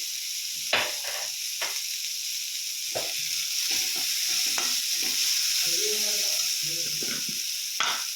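Turmeric and chilli powder frying in hot oil for a Telugu fish curry, a steady sizzle with scattered scraping stirs, close and fairly loud, no talking.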